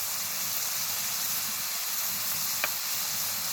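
Coriander, cumin, dried chilli and garam masala powders sizzle in a hot pan for a pointed gourd and prawn curry, a steady close hiss with one brief click partway through.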